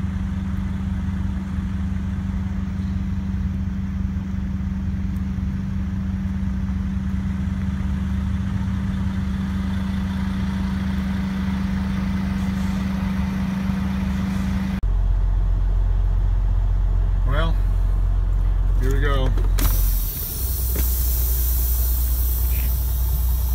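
A car drives on a snowy road, its engine a steady low rumble that holds throughout, shifting tone partway through as some brief higher noises break in near the end.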